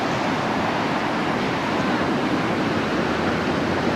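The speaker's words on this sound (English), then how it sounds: "You can kind of hear the breakers coming in." Ocean breakers rolling in below a cliff behind a Newport mansion, heard as a steady, loud wash of surf noise with no distinct individual crashes.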